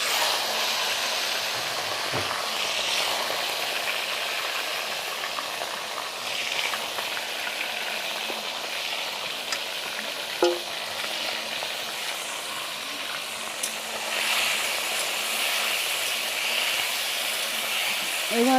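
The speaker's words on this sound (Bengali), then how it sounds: "ম্যারিনেট করে রাখা মাংসটি এই তেলে ভেজে নিচ্ছি।" Marinated chicken pieces frying in hot oil in a pan for a Bengali chicken curry with potatoes, giving a steady, continuous sizzle and hiss with faint clinks of stirring, close and without talk.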